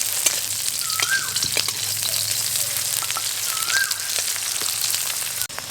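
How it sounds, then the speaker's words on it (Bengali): Chopped onion frying in oil with dried chilli and garlic, a continuous close crackling sizzle with scattered pops and a couple of faint clinks over nearly six seconds. "পেঁয়াজটা বাদামি হয়ে ভাজা হয়ে গেছে"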